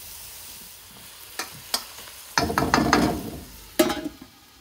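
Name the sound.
onions sweating and softening in a pan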